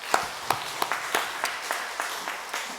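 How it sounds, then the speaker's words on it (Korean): A church congregation claps along in a fairly steady rhythm, a run of about ten distinct claps at a brisk, even pace in a reverberant hall. "하나님께 영광의 박수 돌려드리겠습니다."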